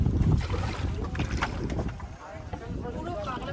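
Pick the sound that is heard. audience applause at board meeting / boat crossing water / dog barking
boat crossing water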